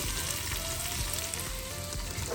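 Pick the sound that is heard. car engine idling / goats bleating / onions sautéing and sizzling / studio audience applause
onions sautéing and sizzling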